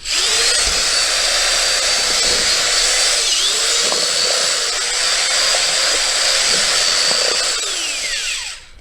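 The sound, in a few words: drill mixing drywall joint compound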